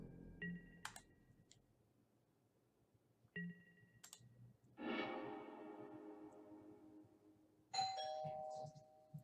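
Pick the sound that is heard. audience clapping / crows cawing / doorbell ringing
doorbell ringing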